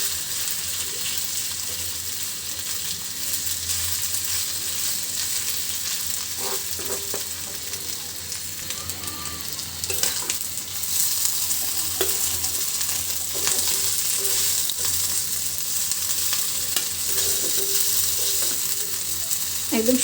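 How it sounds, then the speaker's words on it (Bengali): Dried chillies fry in a pan with a steady, close sizzle, broken by scraping stirs and clinks from a spatula. No one speaks. "একদম শুকনো মরিচ দিয়ে ভাজি করে নিব"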